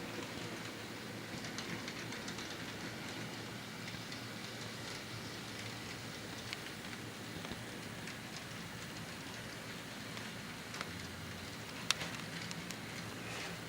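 A model train locomotive backs up steadily with a faint continuous rumble and occasional light clicks of wheels on track, no voices.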